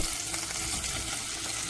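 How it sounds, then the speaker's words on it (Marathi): Marinated paneer frying in butter in a pan, a dense steady sizzle with faint stirring, close and continuous, no talking. "आता हे मॅरिनेशन केलेलं पनीर आपण बटरमध्ये छान परतून घेऊया."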